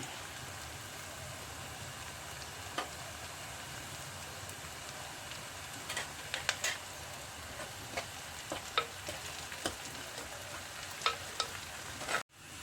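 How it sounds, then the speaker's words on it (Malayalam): Onions fry in oil in a pan for a Kerala green mackerel curry, giving a soft, continuous sizzle with occasional crackles and stirring scrapes. The sound is fairly faint and close, and no one speaks. "ഉള്ളി നന്നായി മൂത്തിട്ടുണ്ട്"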